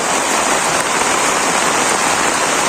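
Heavy rain falls steadily in a Bangladeshi village, a dense, unbroken wash of drops on surfaces, loud and close, with no voices.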